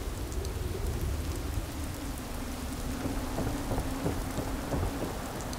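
Thunderstorm ambience in the game Fallout London: steady, dense rain with low rolling thunder throughout and a run of sharper rumbles and cracks near the end, no voices.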